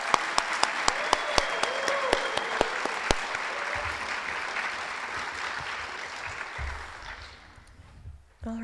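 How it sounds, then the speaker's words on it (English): Audience applause at a graduation ceremony for a school district leadership and ambassador program, a dense sustained clapping that holds steady for several seconds, then thins and fades out near the end. "another round of applause"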